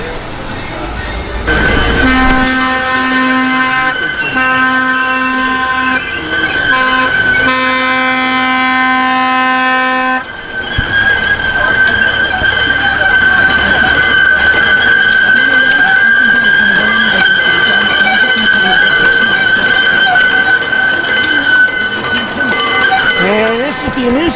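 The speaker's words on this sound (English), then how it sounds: "The amusement park train used in the 1964-65 World's Fair." Amusement park train once used at the 1964-65 World's Fair, shown at a railroad festival, sounds a long steady multi-tone horn or whistle that holds loud and close for most of the stretch, with a brief break midway and mechanical rumble underneath.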